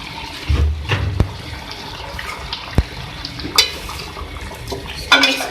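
Potatoes go into a cooking pan of vegetables for a spinach, brinjal and potato dish, bringing a few clattering knocks, thuds and wet scrapes against the pan, close and unaccompanied by talk.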